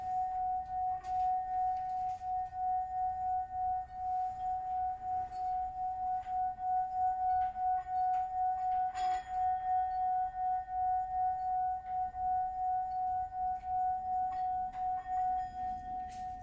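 A singing bowl rings with a steady, sustained pure tone that hums on and on without fading, quiet and calm with no voices.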